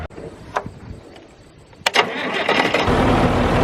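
An Oxbo BH100 one-row green bean picker driven off a tractor PTO starts up: a few sharp clunks and clicks, then a rising mechanical whir that settles into a loud, steady idle roar.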